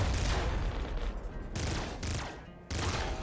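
A laser minigun in Nuclear Throne fires in dense, loud continuous streams, broken by short pauses into three or four sustained bursts, with no talking.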